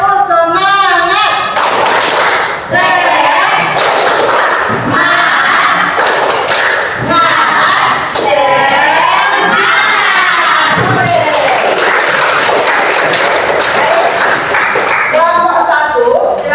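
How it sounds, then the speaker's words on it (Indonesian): A class of children chants and claps in rhythm for a spirit clap in a classroom, with loud shouted voices and sharp, repeated claps and thumps close by. "Tepuk semangat."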